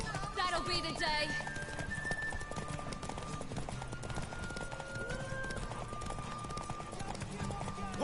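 Horse hooves clip-clop in the video game The Witcher 3, a steady rhythmic gait heard under in-game dialogue, with a brief whinny early on.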